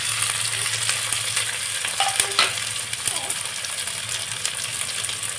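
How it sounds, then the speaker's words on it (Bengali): Chopped tomatoes hit a frying pan of oil tempered with dried chillies for a dal, potato and ash gourd dish, giving a loud steady sizzle with clinks and stirring scrapes, while someone talks. "দেখুন, এবারে আমি কেটে রাখা টমেটো দিয়ে দিলাম।"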